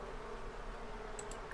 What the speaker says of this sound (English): How do we calm down our bees?